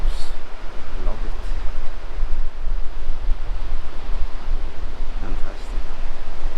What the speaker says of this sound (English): It's so nice to just sit here and listen to the waves.